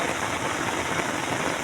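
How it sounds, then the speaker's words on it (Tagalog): Heavy rain pours down steadily over the Marikina River in a dense, unbroken hiss with no pauses or voices. "tuloy-tuloy ang buhos ng ulan dito sa Marikina River"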